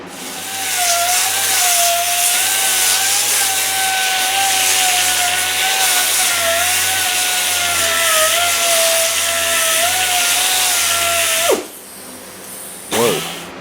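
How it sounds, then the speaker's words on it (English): Dual-action sander grinding and sanding the rusty body of a forgotten barn-find car, a loud sustained whine that wavers slightly in pitch, then cuts off abruptly with a brief spin-up afterward. "that's a lot of DA grinding and sanding"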